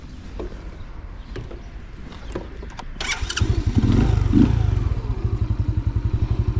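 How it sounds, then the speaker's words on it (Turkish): An RKS Easy Pro 50 motorcycle engine starts with clattering, then settles into a steady, rapid idle thump, close and fairly loud. "motorun sesini duyuyorsunuz. Gayet e, stabil çalışıyor."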